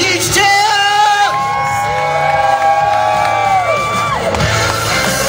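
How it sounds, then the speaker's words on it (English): A crowd at an FMX show in Truro cheers loudly, with whoops and yells rising over a steady roar of voices that lasts the whole stretch. "If you think it was Danny Beale, give me a huge cheer!"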